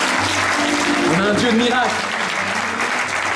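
A church congregation claps steadily and loudly throughout, dense applause mixed with a voice speaking over it.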